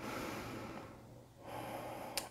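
Slow, soft breaths during an intermediate yoga class with inversions, a steady airy exhale fading into a quiet pause before the breathing swells again, ending in two short sharp sniffs close to the mic.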